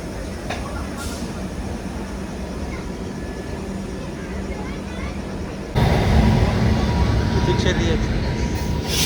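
The Puducherry Express rolls past on the Chennai Egmore line with a continuous heavy rumble and clatter that grows suddenly louder partway through, with voices in the background.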